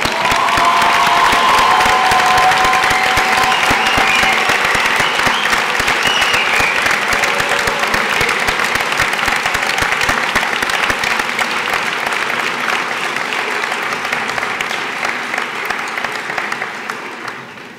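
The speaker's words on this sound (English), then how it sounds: "And let's recognize them with our applause." Sustained applause from a large graduation ceremony audience fills the room, steady and loud throughout before gradually thinning out near the end.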